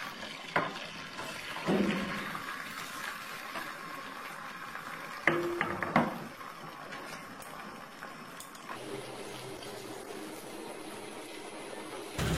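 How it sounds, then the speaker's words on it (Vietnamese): A thin layer of beaten egg yolk mixed with cooking oil fries over low heat in a pan for a rolled omelette. It gives a soft, continuous sizzle close by, broken by occasional clinks and scrapes of a utensil against the pan. "Khi chiên anh chị để lửa nhỏ thôi, chảo cũng nóng vừa thôi."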